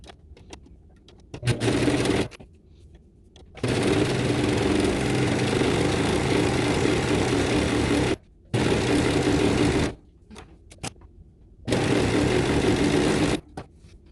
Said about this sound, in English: I'm going to use white serging thread to serge around my whole entire suit